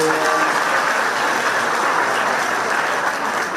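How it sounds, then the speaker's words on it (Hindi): Steady applause from a crowd of students at a college gathering, dense and even, holding at a constant level throughout with no voices standing out. "थोड़ी ताली बजाकर धन्यवाद दो।"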